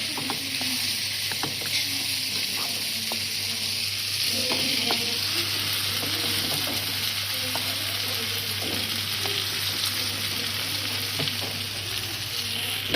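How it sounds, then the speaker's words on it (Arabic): Onion frying in a pot alongside softening pumpkin for sweet couscous, giving a steady, fairly loud sizzle and crackle with faint stirring, no talking. "البصله راها بدات كطيب"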